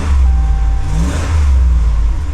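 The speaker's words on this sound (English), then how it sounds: "Exhaust sounds nice though." A RAM 1500 pickup truck with flood damage and a stock exhaust revs close by, its deep exhaust note swelling and easing back over a steady running rumble.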